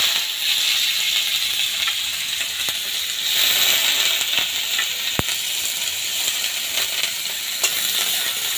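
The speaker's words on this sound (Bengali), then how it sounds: "তেল গরম হয়ে গেছে, এর মধ্যে আমি পেঁয়াজটা দিয়ে দেব।" Onion drops into hot oil in a pan and fries with a steady, loud broadband sizzle and hiss, a single sharp tap of a utensil cutting through midway.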